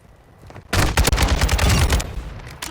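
A burst of AK rifle gunfire in Modern Warfare II rings out loud and close after a quiet start, a rapid run of shots lasting over a second before it fades out.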